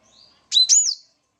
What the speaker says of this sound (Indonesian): Kenari Afrika atau black throat, bertubuh kecil dan cepat dikenal oleh kalangan penghobi burung kicau